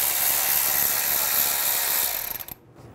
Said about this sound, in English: Using a 12 millimeter socket, remove the bolt for the brake hose bracket.